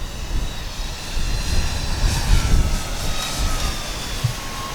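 An E-flite Twin Timber RC airplane's electric motors drone in flight, a steady moderately loud buzz with slight swells as the plane passes, no voices.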